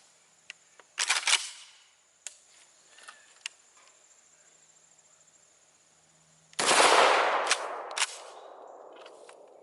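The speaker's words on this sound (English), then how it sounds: "Alright, up first out of the KSG 12 is no shotgun choke." A KSG 12 pump shotgun fires a single round of 00 buckshot with no choke at a 7-yard range. After a few sharp mechanical clicks and clacks, one loud, close blast lands late and rings out briefly in an otherwise quiet outdoor setting.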